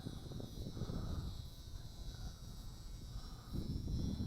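A WLToys F949 trainer RC airplane flies under throttle, its small motor giving a faint, thin high whine above gusty wind rumble that swells and eases.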